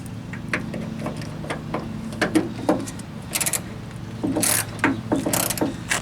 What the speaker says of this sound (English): Start taking your bolts out. Don't take them all the way out at first.